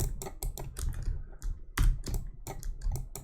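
Quick bursts of keystrokes on a computer keyboard, crisp and close, come in irregular clusters with brief pauses between them.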